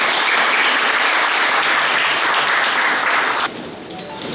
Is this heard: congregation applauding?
yes